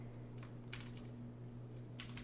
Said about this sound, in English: That's all we had to type.